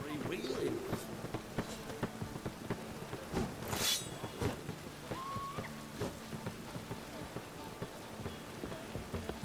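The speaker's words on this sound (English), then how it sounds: "Looks like rain." Steady rain from The Witcher 3 video game falls as a continuous wash, with a brief thunder-like burst midway, under game music and character voices talking.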